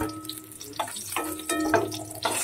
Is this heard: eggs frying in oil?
yes